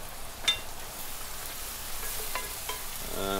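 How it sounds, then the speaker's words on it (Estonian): Shrimp risotto ingredients sizzle steadily in a hot pan, a soft continuous frying hiss broken by a few sharp crackles and a light stirring clatter near the end. "Nüüd säriseb mõnusalt."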